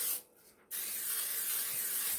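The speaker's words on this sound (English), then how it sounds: "I'm going to spray these 2 pans with some coconut oil" Coconut oil sprays onto two baking pans for homemade manicotti: a brief hiss, a short pause, then a long steady close spray hiss.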